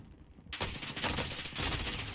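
Rapid gunfire erupts from a weapon in the shooter game Warzone, a dense continuous burst of shots that starts abruptly and runs loud and sustained to the end.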